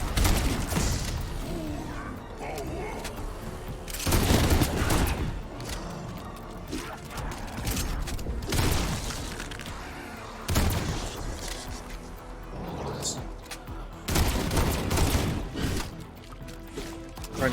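Rapid bursts of gunfire from a first-person shooter during a camo grind, loud clusters of shots repeating every few seconds with mechanical clatter between them.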